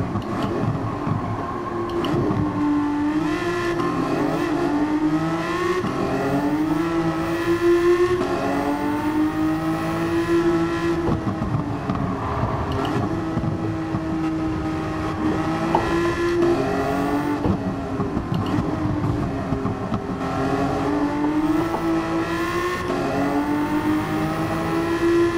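Race car engine in the Gran Turismo 7 video game, revving continuously with rising and falling pitch through repeated gear changes, a steady loud drone with no talk.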